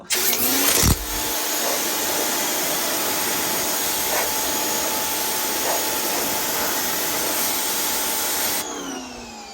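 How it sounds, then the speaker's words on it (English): A power washer strips paint off a wooden fence gate in a loud, continuous hiss of spray lasting several seconds. It starts abruptly after a short burst and cuts off near the end, with no talk. "I'm going to try power washing this side too"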